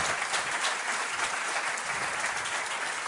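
A studio audience at a special television program on the Faces of Bélmez breaks into loud, sustained applause, dense even clapping that continues unbroken for about three seconds.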